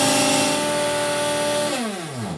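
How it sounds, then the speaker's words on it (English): A grinder whirs loudly as it pulverizes flax seeds into powder, a constant high motor whine with gritty texture that then drops in pitch as it winds down near the end. "we just want to grind it until the point where we don't hear kind of a sandy sound, which is the large flax chunks jumping around"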